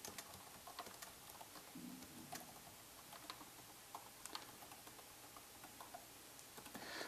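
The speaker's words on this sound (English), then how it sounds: "Just going to type in some employees as well as their number of sales." Quiet, rapid key clicks from a computer keyboard, as names and sales figures are typed into an Excel spreadsheet, tapping irregularly and continuously with no talk.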